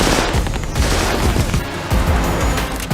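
Bursts of rapid gunfire crackle and boom in quick succession, loud and close, with brief gaps between volleys.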